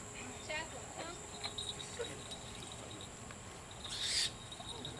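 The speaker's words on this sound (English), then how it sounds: "Now he made a vocalization there and you could hear his bell jingling" Faint, soft owl calls in a quiet space, with a brief bright jingle of a small bell near the end.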